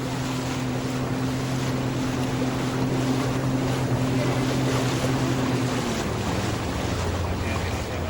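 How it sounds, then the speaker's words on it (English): A boat motor drones steadily over wind and water noise, its pitch dropping near the end as it moves away. "That boat? is that a boat?"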